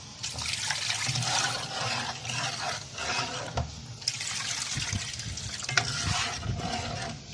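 Water streams into a hot pan while mullet fish cooks, giving a continuous splashing, sizzling hiss with brief bubbling surges and small clinks, close and fairly loud with no talk.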